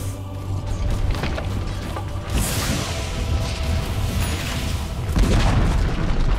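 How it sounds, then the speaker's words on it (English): A heavy boom with crumbling debris as the Dire's top tower collapses in a Dota 2 match, loud and close, followed by a second deep impact amid ongoing battle noise. "Dire's top tower has fallen."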